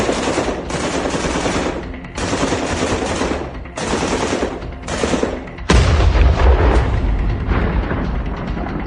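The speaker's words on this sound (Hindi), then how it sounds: "और गोलियों की तड़तड़ाहट।" Rattling gunfire as a sound effect in a Hindi radio drama about a border firefight, loud sustained machine-gun bursts in several long volleys with brief gaps, ending in a heavier booming stretch.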